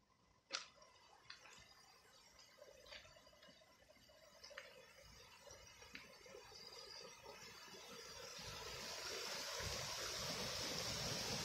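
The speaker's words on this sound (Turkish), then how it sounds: "Gürül gürül su akıyor." Waterfall of Aygır Dibi at Bozkır, formed by water gushing up from underground, rushes as a steady broadband roar that swells louder toward the end, with a few sharp drips or ticks early on.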